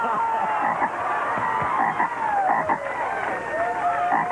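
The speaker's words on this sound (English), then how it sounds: "He's an African bullfrog." An African bullfrog croaks in a steady, busy run of calls, close and fairly loud, with tonal sweeps and crowd-like murmur layered through the sound.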